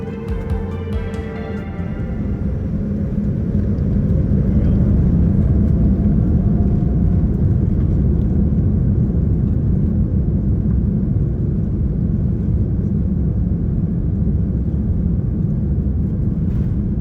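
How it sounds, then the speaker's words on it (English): An airliner takes off from New York's JFK Airport, heard from inside the cabin: a steady loud low roar of engines builds up over the first few seconds and then holds at full power. "Taking off out of New York's JFK Airport, we begin our 7-hour flight over to London Gatwick"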